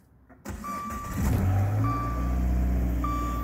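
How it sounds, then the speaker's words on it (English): A 2014 Dodge Dart with a 1.4 turbo engine starts and settles into a steady mid-pitched idle, with a chime beeping three times at regular intervals over the engine hum. "As you can hear the motor running a minute there."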